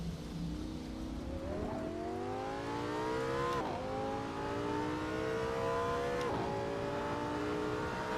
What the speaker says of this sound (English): From inside the car, it sounds a lot better than the other one.